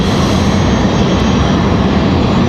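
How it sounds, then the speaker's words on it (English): Frontier Airbus A321neo jet at Raleigh-Durham International Airport, a loud, steady, broadband engine roar that stays constant and close throughout with no talking. "Frontier 2072 headed to Philadelphia"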